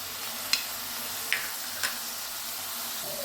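Ginger garlic paste goes into a hot frying pan for a home-style chicken pizza topping, giving a steady soft sizzle with three brief scraping stirs spaced about a second apart, close and alone with no talking.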